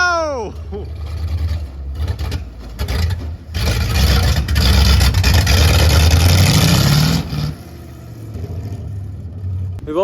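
A Crosley hot rod, running again after 20 years, drives a lap around an indoor shop, its small engine revving and accelerating loudly up close before settling back toward idle, with excited voices talking over it.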